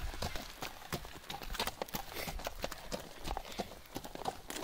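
Hooves of a small, skittish pony clip-clopping in a quick, steady rhythm, fairly close and continuous, with faint voices in the background.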